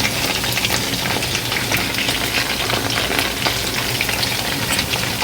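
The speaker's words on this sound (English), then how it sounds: "And you can deep fry this as well. It may do better. I just decided to use a skillet." Orange chicken pieces fry in oil in a skillet, giving a dense, continuous, fairly loud sizzle and crackle with no voices over it.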